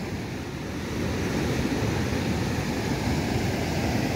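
Swollen Salgado River in Ceará's Cariri region running high after heavy rains, a steady broadband rush of flowing water that grows slightly louder after the first second and continues unbroken, with no voices.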